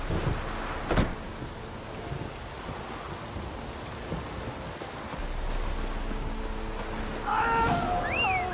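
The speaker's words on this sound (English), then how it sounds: "Looks like rain." Steady rain falls in The Witcher 3: Wild Hunt as a soft, continuous hiss that thickens toward the end. A sharp knock comes early and a high whistling sound near the close.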